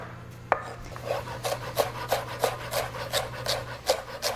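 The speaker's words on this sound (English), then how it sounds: "I have the planks that I'm cutting into, then cut those into matchsticks, realign those matchsticks" Knife chopping fresh ginger into matchsticks on a cutting board: a steady run of about a dozen crisp, evenly spaced cuts, close and clear over a low hum, with no talking.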